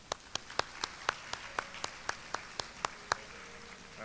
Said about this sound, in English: But a big round of applause, please.